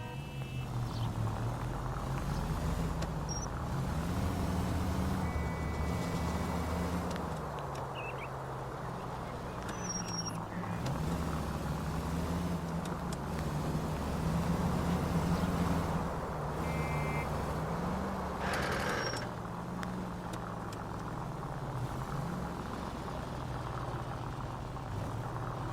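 Car engine in L.A. Noire driving through city streets, a low rising and falling motor hum as it shifts through speeds, moderately quiet and continuous with faint ambient traffic.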